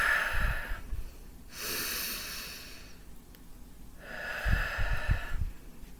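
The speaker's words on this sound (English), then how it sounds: "Take some deep breaths." Slow, deep breathing with audible inhales and exhales, a breath drawn in around the start, middle and end of the stretch with quiet gaps between, close and fairly soft with no talking.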